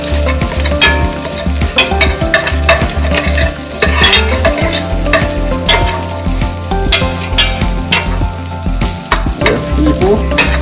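Sardines fry loudly in a pan with steady crackling sizzle throughout, broken by frequent stirring scrapes and knocks of a utensil, close and continuous with no talking.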